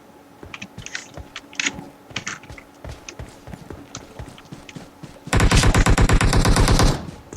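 Gunfire in the mobile battle royale game PUBG Mobile: scattered single shots and short bursts, then a loud, rapid sustained automatic volley near the end, with no talking.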